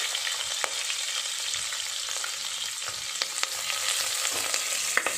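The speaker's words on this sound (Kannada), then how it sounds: "ಆನಿಯನ್ಸ್ ಬಂದು ಸ್ವಲ್ಪ ಗೋಲ್ಡನ್ ಫ್ರೈ ಆಗಬೇಕು" Onions fry in a pan with a moderate, continuous sizzle and scattered crackles and stirring clicks, fairly close, with no one talking.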